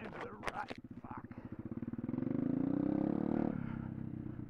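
A small pit bike engine revs while riding through a dirt rut, pulsing low and rhythmic before rising into a steady, strained drone, heard up close with the rider's voice over it.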